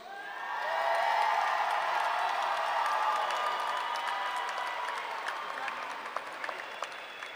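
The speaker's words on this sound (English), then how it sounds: "Let's give another hand, a round of applause for the Murray State class of 2017" Audience applause at the Murray State University May 2017 commencement ceremony swells into a broad, sustained roar of clapping from a large crowd in a big hall, with scattered cheers, slowly fading over several seconds.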